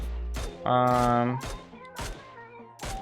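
Gunshots in the mobile battle royale game PUBG Mobile, a handful of sharp reports spaced about half a second apart with a short sustained tonal tail in between, close and fairly loud.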